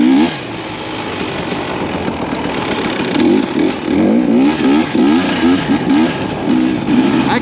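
A KTM hard enduro dirt bike engine revs in repeated throttle blips over a steady idle, loud and close, outdoors in snow.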